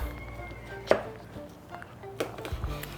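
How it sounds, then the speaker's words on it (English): Knife trimming a slab of barbecue ribs, with two short, sharp cutting strokes standing out over a low background hum, close and moderately loud, no talking. "Now let's get a quick trim on this next slab."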